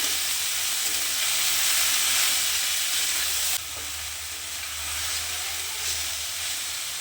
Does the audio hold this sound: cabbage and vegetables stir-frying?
yes